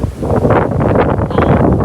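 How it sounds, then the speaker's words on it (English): Strong wind from Hurricane Ian roars steadily into the microphone, a loud continuous rumble with gusty surges and leafy rustling, no voices. "You can see how the wind is blowing and windy right now."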